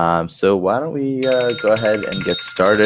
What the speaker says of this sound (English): Oh, that is my phone alarm.